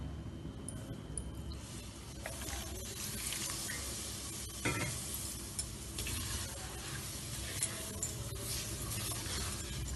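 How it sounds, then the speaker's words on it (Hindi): Water is added little by little to a frying pan of cooking food, giving a steady sizzle and stirring scrape with occasional splashes, continuous and moderately close, no voices. "अब हम थोड़ा थोड़ा करके पानी डालेंगे"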